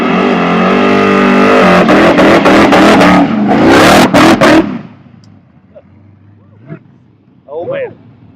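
Car engine revs hard during a burnout, a loud roaring, warbling exhaust that rises and stutters through several throttle bursts before cutting off, leaving faint crowd noise and distant engine sounds.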